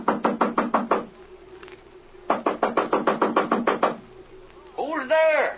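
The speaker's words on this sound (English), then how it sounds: "Knock on that door there, Jimmy." Knuckles rap on a door in two quick bursts of about eight knocks each, loud and close, followed by a voice.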